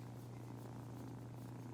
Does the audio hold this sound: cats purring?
yes